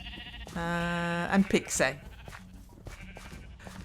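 Sheep bleating in the Minecraft video game: one long, loud, steady bleat followed by a few shorter wavering calls, with a person talking over and after them.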